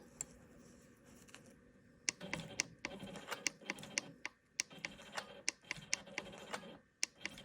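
A quilting machine stitches in the ditch along the sashing around a maple leaf block, giving rapid close needle ticks and clicks in uneven bursts over a low motor hum, with no voices.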